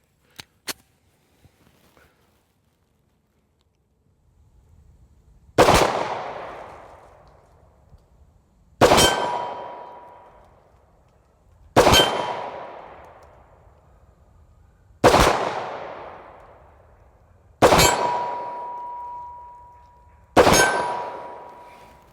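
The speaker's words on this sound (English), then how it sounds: "So I have 6 shots in the gun." Six single shots from a Springfield Armory SA-35 pistol fired at a target 71 yards away crack out a few seconds apart, each loud and sharp with a decaying echo, after quiet handling noises.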